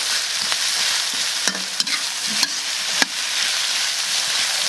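Onion and scallion pieces stir-fried in a hot wok for spicy pig ears: a steady sizzle with several sharp spatula clacks against the pan, close and fairly loud, with no talking.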